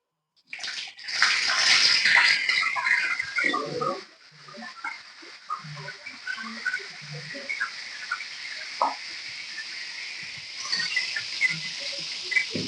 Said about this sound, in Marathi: गरम झालं तर आता मी जिरा टाकतो त्याच्यामध्ये जिरा टाकलाय